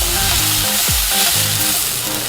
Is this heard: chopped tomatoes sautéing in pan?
yes